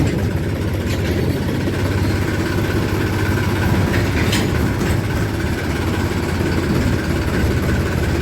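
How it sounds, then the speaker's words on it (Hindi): A farm tractor engine idles steadily with a deep, continuous low rumble and a mechanical chug, close and fairly loud throughout, with no talk over it. "ट्रैक्टर पीछे हटाता हूँ थोड़ा"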